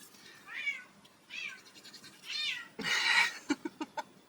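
A cat meowing loudly and repeatedly from a cat wheel just outside a craft room, several drawn-out vocal calls followed by a few short sharp yowls, fairly near and with no talking.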